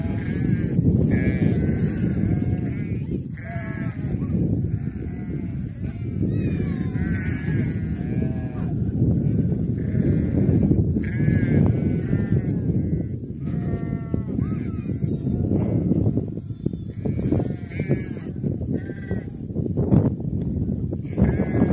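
A flock of sheep grazing near a farm pond in a green forest, with many overlapping bleats rising and falling over a dense, continuous chorus that lasts throughout.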